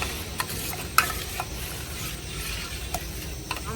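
Ripe mango and milk being mixed together with a spoon, a soft wet swishing broken by a few light clicks and taps of the utensil against the container, close and moderately quiet.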